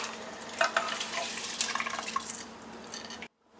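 Soaked basmati rice tipped into a pot of boiling water for a Chennai-style mutton biryani, giving a few seconds of close splashing, dripping and bubbling before it cuts to silence.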